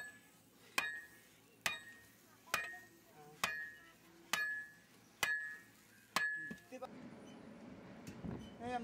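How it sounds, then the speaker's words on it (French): A sledgehammer strikes metal on an anvil during forge welding in a blacksmith workshop in Papanaidupet, seven evenly spaced ringing clanks about a second apart, then a muffled background rumble as the blows stop. "Le frappeur bat la zone à souder à la masse, pendant que le forgeron tourne la pièce sur l'enclume"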